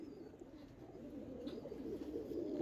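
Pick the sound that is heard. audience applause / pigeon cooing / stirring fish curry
pigeon cooing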